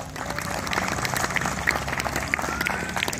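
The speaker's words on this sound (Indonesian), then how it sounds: "Berikan tepuk tangan bagi Yesus." Congregation clapping during an evangelistic service at a modern market in Sorong, a dense, steady patter of many hands with a few sharper claps standing out, moderately loud and continuous.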